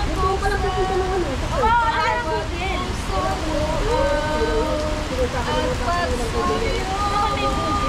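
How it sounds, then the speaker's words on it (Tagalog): Steady rain hisses outdoors in an even wash of noise, with several voices talking and calling over it throughout. "Umuulan, guys!"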